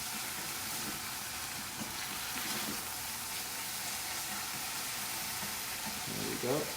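Ground meat filling for steamed char siu bao sizzles in a pan with a constant, close frying hiss, and a brief voice comes in near the end.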